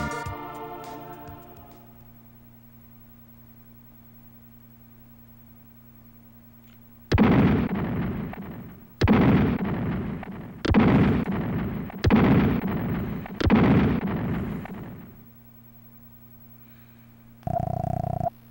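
Bombs going off in the Terranigma video game: five heavy, booming explosions in a rapid series, each a loud broadband burst, over a low droning background tone with a brief electronic effect at the end.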